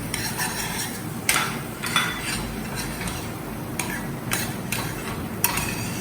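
Boiled peas added to an oil-separated gravy in a pot and stirred: close metallic clinks and scrapes of a spoon against the pot at irregular intervals over a low, steady simmering hiss.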